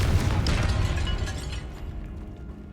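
A Confringo spell blast goes off in Hogwarts Legacy inside a tomb, a loud booming burst that rumbles at first and then fades away.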